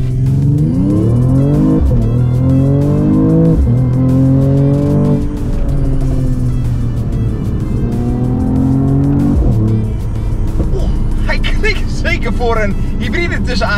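A Mercedes-AMG E53 Coupé mild hybrid accelerating hard, its engine note climbing through repeated gear changes, loud and close; a voice speaks briefly near the end.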